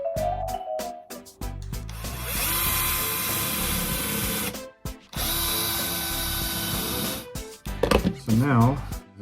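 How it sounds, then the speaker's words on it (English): A power drill bores holes into a column in long continuous runs, loud and close, with brief pauses between passes and a short clatter near the end. "So that's where I want to drill the holes."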